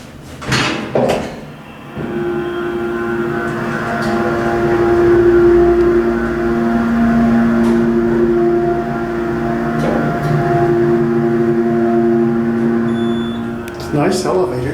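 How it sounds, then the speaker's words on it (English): Modernized Montgomery hydraulic elevator at a Metrolink station, its motor running as a steady hum with sustained tones over about twelve seconds, preceded by door clunks; no talking over it. "Let's listen to motor."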